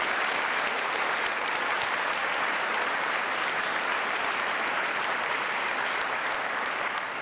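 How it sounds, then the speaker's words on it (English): Sustained applause from an audience, dense steady clapping at an even loudness throughout with no voices. "Let's give him another round of applause."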